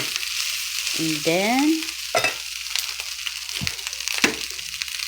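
Fried rice with minced fish and egg stir-fried in a pan, a steady loud sizzle with scraping stirs, while someone speaks briefly over it.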